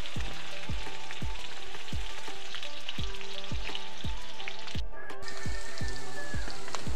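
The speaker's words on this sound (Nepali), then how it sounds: "तेल लगाइसकेपछि लाउँदैछु लसुन, प्याज। यसलाई चाहिँ एकछिन भुट्नु होला तपाईहरुले पनि।" Garlic and onion frying in hot oil in a wok for veg chowmein: a dense, loud, continuous sizzle, steady throughout, punctuated by regular sharp utensil clacks, with no voices.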